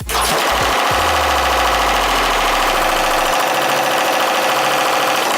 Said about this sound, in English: I have put my drill press on its side and tried to mount it using the chuck, and we're gonna see if this works